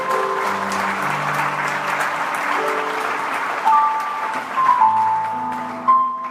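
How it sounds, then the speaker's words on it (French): A church congregation in Kinshasa applauds loudly and steadily for the Lord, dense clapping filling the room, with sustained music tones running underneath and a few louder swells near the end. "on va acclamer très fort pour le Seigneur"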